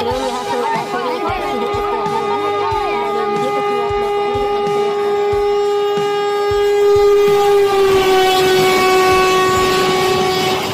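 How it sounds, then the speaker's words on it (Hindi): A train rolls past a closed level crossing in Koderma, Jharkhand, its wheels thumping rhythmically over rail joints while a loud sustained horn blares and swells near the end. "जैसे देख सकते हो दोस्तों ट्रेन यहाँ से"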